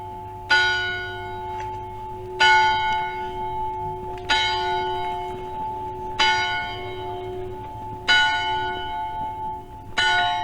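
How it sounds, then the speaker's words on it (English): Church bells in Montgomery, Wales, ringing in steady strokes about every two seconds, each bright clang decaying into a long ringing hum, carrying clearly over soft outdoor background noise. "We're certainly getting all the chimes, aren't we?"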